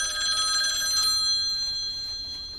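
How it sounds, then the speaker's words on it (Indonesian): A telephone rings inside a bedroom, a steady electronic tone with several bright harmonics, strongest in the first second and then holding on at a slightly lower level, loud and close with no voices. "Tak lama kemudian suara telepon masuk pun terdengar di dalam kamar yang ditempati Preston."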